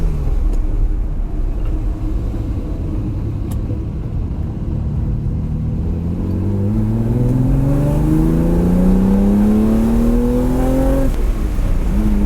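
A Ferrari 330 GTC engine heard from inside while driving, a loud steady rumble that rises into a smooth climbing rev through the gear, then drops as the next gear is taken, with no talking.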